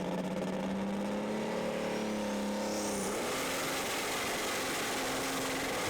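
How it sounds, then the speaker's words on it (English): Pulling tractor engine roaring flat out through a full pull at a tractor pulling finals, a loud continuous engine note with the pitch climbing steadily as the run goes on. "Oh, and this is a storming full pull for Froggy"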